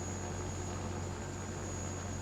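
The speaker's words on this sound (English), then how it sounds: "Helicopters are loud." Helicopter in the PS1 video game Parasite Eve, a steady broadband rotor and engine roar with a low droning hum, continuous and unchanging, no voices.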